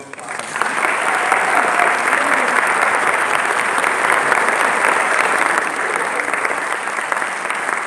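An auditorium crowd at a college honors convocation gives a sustained round of applause for honorees' family members, dense even clapping that holds steady and eases slightly toward the end.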